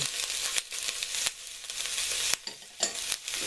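Peppers and onion sizzle in hot oil for a jambalaya, a bright steady crackle, close and loud, broken by a few stirring scrapes and brief dips.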